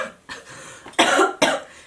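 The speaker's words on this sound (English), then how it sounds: "Being punished for my jokes with my coughing." A person coughs a few times in quick bursts, close and fairly loud, with short pauses between.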